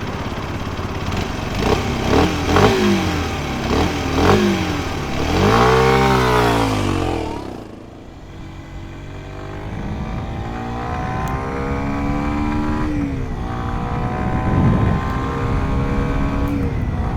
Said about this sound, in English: we're back here with the Z125 and we'll take it out for a little spin